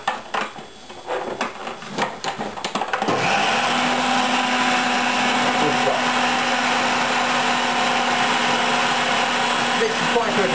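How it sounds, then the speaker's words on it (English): A food mixer kneads egg and flour into fresh pasta dough, starting with a few seconds of clattering and bumping before the motor kicks in with a loud, steady whirring drone that runs unbroken to the end. "It takes very little time in the food mixer"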